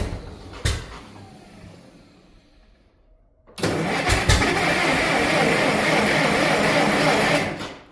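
A tractor engine tries to start in freezing cold: a brief crank and cough, a lull, then the engine catches and runs with a loud, rough rumble that continues steadily.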